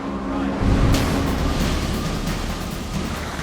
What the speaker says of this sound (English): The larger yachts like Sayonara start vaulting off the tops of the waves.